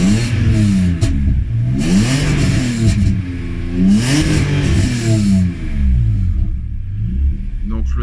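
A BMW E46 Compact with a swapped-in M3 engine revs repeatedly on a dyno, several loud sweeping rises and falls in engine pitch followed by a settling idle, close and dominant.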